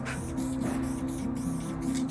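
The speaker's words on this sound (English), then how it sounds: "It kept spraying, like I let go of it and it just kept spraying right there." Steady aerosol hiss from a spray paint can with a stuck cap, used for graffiti lettering, running continuously and fairly close without pause over a faint low hum.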